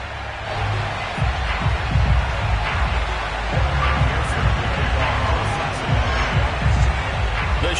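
A Baltimore stadium crowd in an EA Sports NFL video game, Ravens against the Bengals, a steady, dense roar of cheering that stays loud throughout, with a commentator's voice speaking over it.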